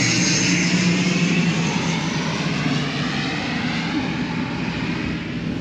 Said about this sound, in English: There's a plane coming in right now.